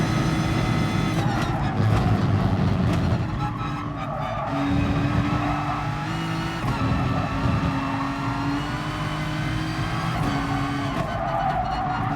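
Race car engine in the GT Sport video game, driven aggressively during a race: a loud, continuous engine drone with shifting pitch as gears change, with no talking.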